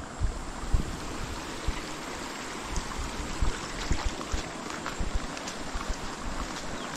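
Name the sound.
high water flowing in a stream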